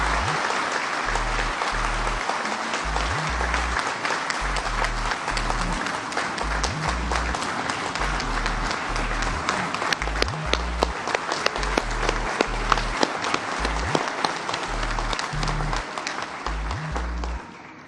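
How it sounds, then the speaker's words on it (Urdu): A large audience at a ceremony in Pakistan applauds a doctor, with sustained dense clapping that stays loud throughout, then tapers off at the end, with low voices underneath. "آج میں سب کو چاہوں گا کہ ذرا زوردار اپلاس کے ساتھ ڈاکٹر طارق کو रिकग्नाइज करें।"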